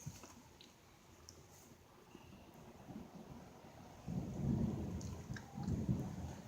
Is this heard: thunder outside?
yes